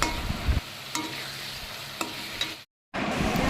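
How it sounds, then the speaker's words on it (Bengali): Fish curry gravy with mustard oil being stirred in a frying pan, soft scraping strokes over a gentle sizzle, close and steady, with a brief dropout near the end. "তো এবার সমস্ত উপকরণ ভালোভাবে মিশিয়ে নিয়ে"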